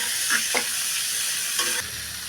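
Mixed mushrooms sauté in a pan with garlic, ginger and chili, giving a steady, close sizzle broken by a few quick stirring scrapes.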